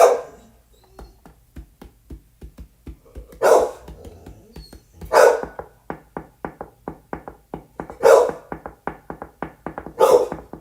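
A dog barks in loud, close bursts spread across the clip, with a fast run of quieter rhythmic ticks or taps between the barks.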